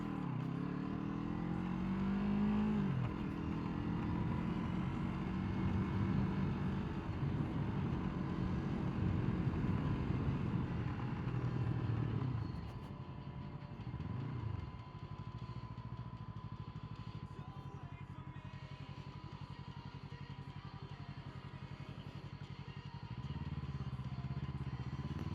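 A Yamaha MT-03 motorcycle rides through a neighborhood, its engine a steady low drone that rises and falls with throttle changes, dipping briefly midway before settling back, heard from the rider's position.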